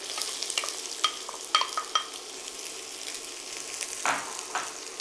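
Red onion sizzling in olive oil in a frying pan, a steady soft crackle with a few louder pops and stirring scrapes, one stronger burst near the end, no talking.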